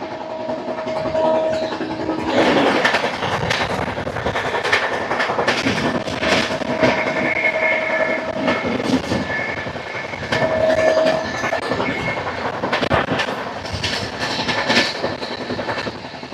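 The Tirupati AC Double Decker Express from Visakhapatnam to Tirupati running at speed near Kavali, a continuous rail roar with rhythmic clickety-clack, passing squeals and brief horn-like tones, heard from on board without talk.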